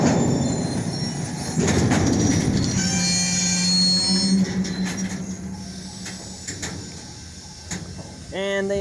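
Queen Railroad GP and D-series locomotives rumble past at night in Valliant, Oklahoma, with train cars clanking and wheels squealing, a steady loud roll that slowly fades, while people talk nearby.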